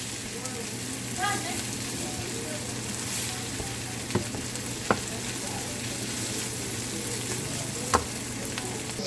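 Saltfish frying in a pan with tomatoes and green onion gives a steady, moderate sizzle throughout, broken by a few sharp pops and crackles.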